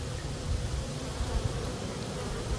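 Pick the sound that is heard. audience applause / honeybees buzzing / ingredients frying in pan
honeybees buzzing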